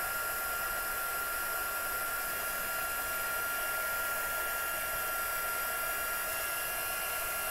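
A heat tool blows a steady, even whoosh of hot air over clear embossing powder as it melts, with a constant fan hum and airy hiss that holds level without break.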